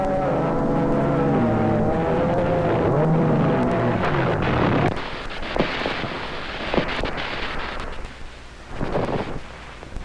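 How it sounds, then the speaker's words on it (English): Speedboat crash during a jump boat race at Cypress Gardens, with loud engine drone giving way to a burst of rending wood and tearing canvas, then scattered splashes and knocks over fading noise. "After one split second of rending wood and tearing canvas, the gaily colored speedster lies crushed and broken beyond repair"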